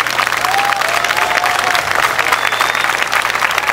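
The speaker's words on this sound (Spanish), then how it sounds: "Quiero un aplauso para ellos." Audience at a 2016 calenda celebration applauds for schoolchildren and an elderly group, a dense, steady wash of many hands clapping that stays loud and continuous for nearly four seconds, with no talk over it.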